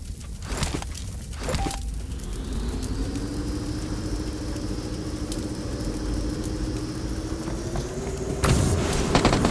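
A vehicle engine idles steadily in PUBG Mobile, a constant mid-pitched drone holding close and even for several seconds, with a few clicks early on and a louder burst of noise near the end.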